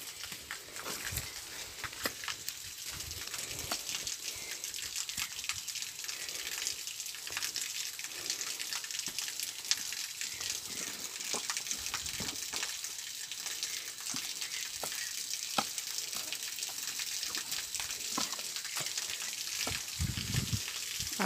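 Water runs steadily in a shallow creek at the edge of a lake beside a vegetable garden, a constant hissing, trickling wash with occasional faint knocks and rustles nearby.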